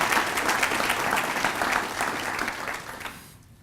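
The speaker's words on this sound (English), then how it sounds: "Please give Councilman Stewart and Molina a round of applause." Audience applause at a city council State of the City event, a steady round of clapping from a crowd that holds for a few seconds, then tapers off and stops.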